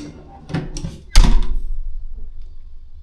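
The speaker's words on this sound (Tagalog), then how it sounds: "Isarado mo ang pinto." A hotel room door in Boracay swings shut with a close, solid thud, preceded by a couple of lighter handle and latch clicks, then a short fading rattle.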